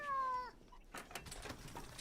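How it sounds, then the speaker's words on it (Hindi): A house cat meows once, clear and close, drawn out for half a second, and then soft household knocks and rustles follow in a quiet room. "कॉल्टर, सिराया, बिल्ली को टेबल से नीचे उतारो"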